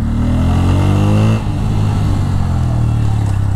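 A motorcycle engine rumbles loud and close, revving hard through its exhaust with a deep throb, then dropping briefly before idling back up to a steady growl.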